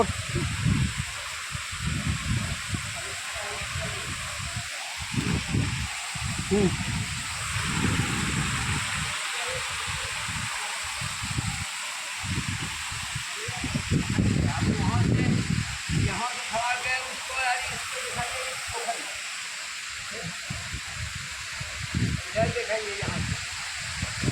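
Mountain waterfall at Daman Kol, Haveli Kharagpur, gives a steady broad rush of falling water through the whole stretch, with someone speaking over it.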